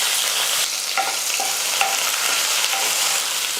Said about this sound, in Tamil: வெங்காயம் நல்லா கொஞ்சம் கலர் மாறுற அளவுக்கு நல்லா வதக்கிக்கலாம்